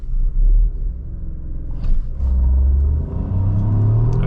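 Lynk & Co 01 accelerating hard from a standstill toward 100 km/h, a loud, steady low engine rumble that swells and rises in pitch as the car gathers speed, with no talk.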